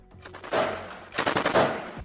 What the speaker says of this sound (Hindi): जिनके ऊपर भी अल-कुद्स के लड़ाके फायरिंग शुरू कर देते हैं